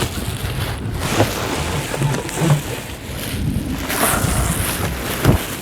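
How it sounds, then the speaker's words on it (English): Strong outdoor wind buffets the microphone in a steady, loud roar with gusty swells throughout, no other clear sounds standing out. "Oh God, it's windy."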